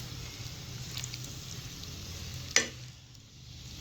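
Pasta sauce with vinegar and soy sauce is stirred in a pan: a steady low sizzle under faint scraping, with one sharp utensil clack near the end before the frying hiss softens.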